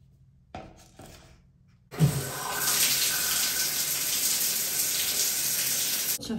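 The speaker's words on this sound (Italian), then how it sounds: "vado in doccia" Water from a shower runs in a bathroom, starting abruptly after a few soft clicks and handling noises, then pouring in a steady close hiss before cutting off.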